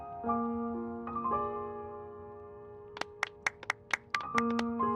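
Scattered applause in the video game Genshin Impact: about seven quick, crisp claps in a short burst, heard over soft sustained background music tones.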